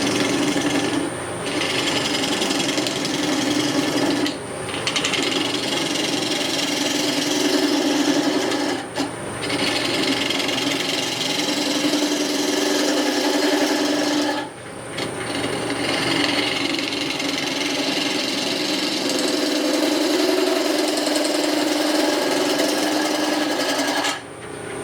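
Metal lathe face turning, a continuous scraping, rasping cut with brief dips and pauses every few seconds as the tool works across the face, loud and close with no talk.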